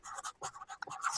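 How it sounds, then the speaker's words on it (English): A paper slip being written on by hand with a pen or pencil, close and quiet, in short irregular scratching strokes with brief pauses between them, no talking. "let me write the slip for Jackie Cruz"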